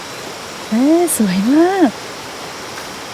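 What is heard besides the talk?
stream flowing through rice fields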